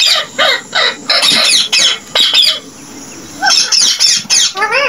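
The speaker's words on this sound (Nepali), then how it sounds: "अहिले चाहिँ चराको आवाज सुन्नु भइरहेको होला नि।" Several birds squawk and caw in repeated bursts, a crow's harsh calls standing out among other bird calls, fairly close and loud with brief gaps between outbursts.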